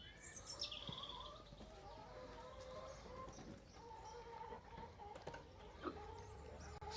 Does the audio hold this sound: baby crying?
no